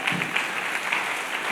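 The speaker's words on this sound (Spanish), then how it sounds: "¿Cuántos le dan un aplauso de gloria a nuestro Dios?" A church congregation applauds in praise, a steady wash of many hands clapping at moderate distance, without speech.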